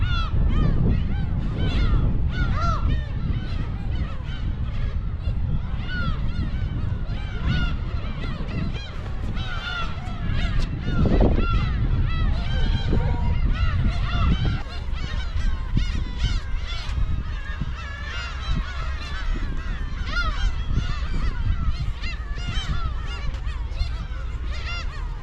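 A huge colony of black-tailed gulls calls around a seaside shrine on an island at Hachinohe, Aomori, Japan, with dense, continuous overlapping honking and mewing cries, loud and close throughout.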